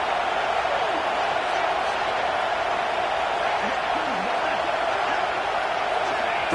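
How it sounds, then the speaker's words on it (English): Dense, steady roar of a large stadium crowd at a college football game during a third-down play in the red zone, a continuous wall of cheering noise with no individual voices standing out. "this crowd is at fever pitch"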